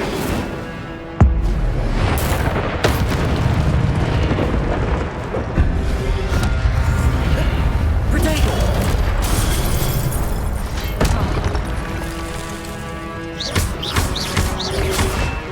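Incendio fire spell blasts in the video game Hogwarts Legacy, a string of booming explosive bursts and thuds over continuous battle noise, close and loud, with sharp pops scattered throughout.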